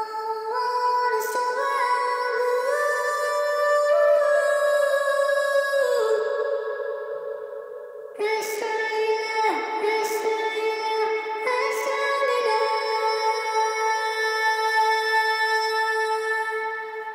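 A vocal pitched up an octave and drenched in very long reverb, over half wet, for a Post Malone-style production. It sings sustained, bright, layered tones in two long phrases with a brief dip between them, with no other sounds.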